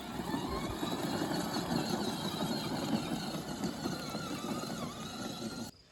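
A FanttikRide 24V all-terrain ride-on toy car driving across grass, giving a steady close electric motor whir with rustling and rumbling from the wheels that cuts off abruptly at the end.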